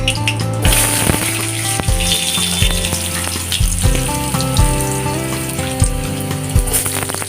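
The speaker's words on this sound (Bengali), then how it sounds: "আস্ত যে 4টা রসুন ভেজে নেব আলুগুলা।" Potatoes frying in oil with four whole garlic cloves, a loud, busy sizzle with spattering crackle and a few sharp knocks of a spoon against the pan.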